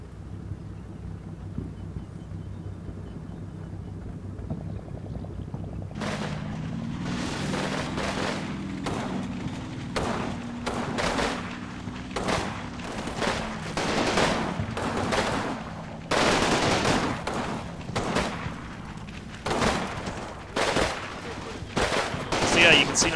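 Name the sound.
machine gun fire from a video game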